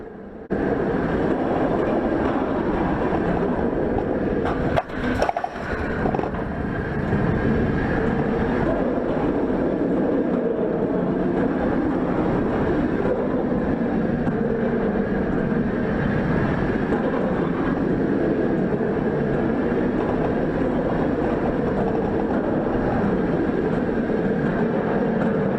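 Onboard a roller coaster at Cedar Point, a dense roar of wind and rattling track noise runs continuously, with a sharp clatter burst early on and steady rough vibration afterward.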